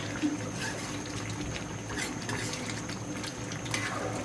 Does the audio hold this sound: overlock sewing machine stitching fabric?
no